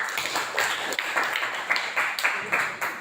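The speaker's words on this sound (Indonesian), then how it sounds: "Ya, tepuk tangan ya." A classroom of students claps their hands after a group presentation, a short burst of rhythmic, fairly even claps repeating roughly three times a second, close and moderately loud.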